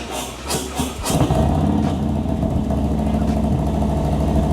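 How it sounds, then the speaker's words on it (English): A motorcycle fitted with Arlen Ness T-bars fires up from neutral: a few sharp cranking bursts, then the engine catches and settles into a steady, loud idle close by. "It is in neutral. Let's go ahead and start it."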